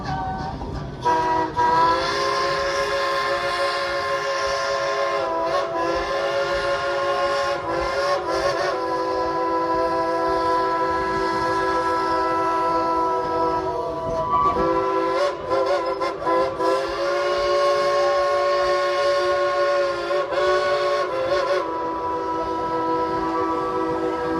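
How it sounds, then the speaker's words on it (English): A steam train whistle at Dollywood blows long and loud on a very cold day, a steady harmonic tone holding for over twenty seconds with brief dips, no voices. "blow that whistle good and long on the count of 3"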